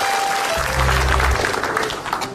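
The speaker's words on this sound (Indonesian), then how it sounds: "Terima kasih ya, tepuk tangan." A studio audience at a televised comedy show claps in a dense, loud burst of applause that swells and then tapers off over a couple of seconds, with no talking.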